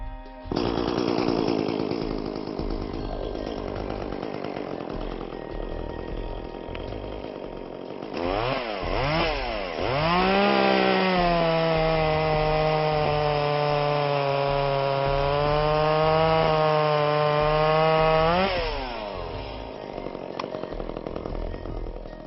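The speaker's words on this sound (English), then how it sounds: "Now let's start our chainsaw." A gas chainsaw sputters and revs, then holds a loud, steady high-pitched whine as it bites through a log, dropping off near the end.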